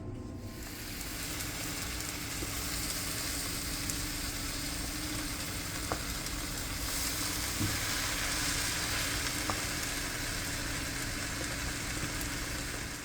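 Three large shredded, rinsed Yukon Gold potatoes sizzle steadily in a skillet, a continuous bright frying hiss that holds at moderate loudness throughout with no talking.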